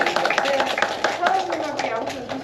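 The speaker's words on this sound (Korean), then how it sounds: "박수 치면서 이제 잘 가시라고 보내드리겠습니다" An audience at a university seminar claps to send off a visiting professor, a brief dense burst of applause mixed with speech.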